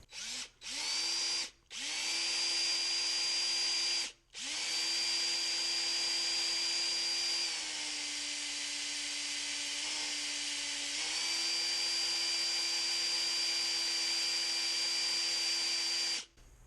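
A power drill bores a hole in a metal Corona 3354 weeder with a loud, steady high whine. It stops briefly a few times and the pitch shifts slightly partway through, then it runs continuously.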